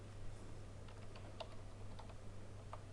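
Someone types a school name on a computer keyboard, a run of soft, irregular key taps set against a steady low hum and background hiss.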